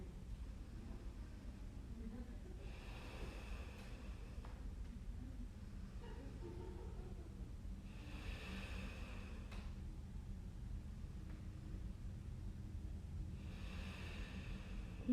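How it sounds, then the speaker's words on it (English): Slow, deep breaths during a yoga pose, three long soft exhalations spaced several seconds apart over a low steady background hum, quiet and close. "take a couple slower but deep, deep, deep breaths here"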